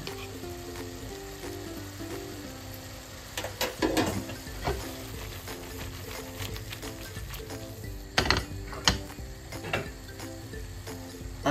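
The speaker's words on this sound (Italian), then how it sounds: "La pasta adesso è pronta, la faccio saltare nelle fave." Cooked pasta is tossed in a pan with soft, cooked fresh fava beans and pancetta. A steady, close sizzle runs throughout, with clattering bursts of tossing and stirring scattered across it and no talk.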